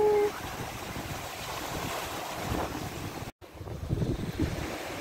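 Steady wind buffets the microphone on a beach in the Scottish Highlands, with a broad rushing roar like surf underneath, continuing with one brief dropout.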